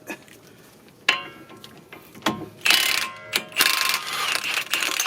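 A ratchet turns a 35 mm socket on the front axle nut of a 2012 Ford Edge during a wheel bearing job, giving bursts of sharp metallic clicking with irregular pauses, close and fairly loud.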